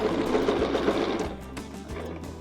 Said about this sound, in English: When you get to the last of your design, you just stitch to your stitch line.